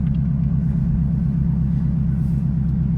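A Ferrari F430 with a swapped-in manual gearbox rumbles steadily while driving, its low engine drone loud and even from close up, with no talking.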